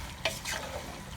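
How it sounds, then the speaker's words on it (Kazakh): Carrots for plov fry over high heat while being stirred, a brief close scrape and sizzle burst over a continuous low frying hiss. "үстіне сәбізді қуыратын боламыз"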